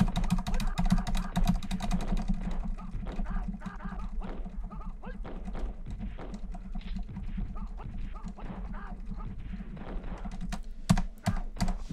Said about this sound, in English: I can only hear the keyboard.